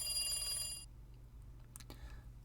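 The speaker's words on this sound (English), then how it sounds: "The phone continued to ring." A telephone rings in a quiet house early in the morning, its bright electronic trill lasting just under a second before cutting off. A low hum continues underneath, along with faint scattered ticks.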